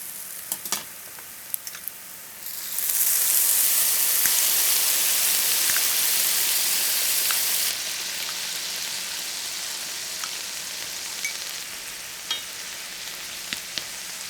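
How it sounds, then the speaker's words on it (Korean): King oyster mushrooms fry in butter in a pan, giving a steady close sizzle that swells loudly for several seconds as they are turned, then settles to a softer crackle with light utensil taps. "새송이 버섯은 충분히 구운 후 뒤집어 주세요."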